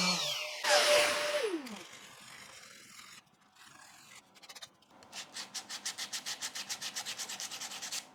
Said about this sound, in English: Olive sands so smoothly and easily